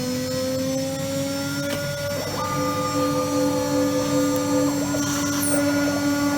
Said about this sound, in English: So it's doing these drilling like you saw on the computer earlier.